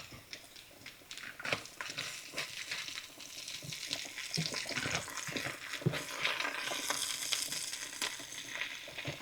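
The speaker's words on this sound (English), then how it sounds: "Look at our beans. They're back here just boiling away." Beans boil in a pot close by, a bubbling, sizzling boil with steady crackling pops and wet hiss throughout, and no talking.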